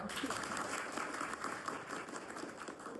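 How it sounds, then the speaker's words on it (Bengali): A gathering at a felicitation event applauds Subhendu Sahu with dense, steady clapping from many hands, moderately close and continuous throughout, with faint voices underneath. "সবাই তার জন্য একটা হাততালি"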